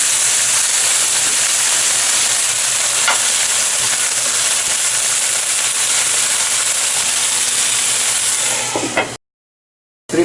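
Brussels sprouts stir-frying in a pan with a big burst of steam after water is added, a loud continuous sizzling hiss that holds steady before cutting off abruptly near the end.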